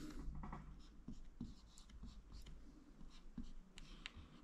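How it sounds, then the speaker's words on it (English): Pen scratching on paper while working out a quadratic factorisation, a quiet, close run of short strokes and taps with no talking. "So I would write this down like this."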